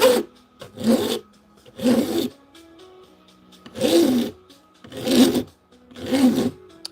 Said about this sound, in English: And I like filing.